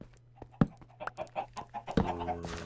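Cave chickens in a fantasy dungeon video game cluck in short, scattered bursts, several birds close by, with soft irregular clucks and a couple of sharper sounds.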